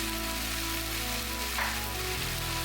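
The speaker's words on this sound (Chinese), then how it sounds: "放入牛腩，翻炒一下。" Beef brisket stir-fried with spices in a hot pan, a dense continuous sizzle and crackle with a steady low hum underneath and no voices.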